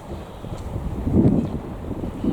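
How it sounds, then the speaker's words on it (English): Wind buffeting a microphone beside the sea at a small harbour, a steady low rumble with gusts swelling toward the middle, loud and continuous with no voice. "Sorry about the wind, but I'm right beside the sea here."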